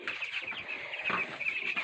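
Hens on a farm cluck and chatter continuously at close range, with a steady run of short, bright calls and no talking.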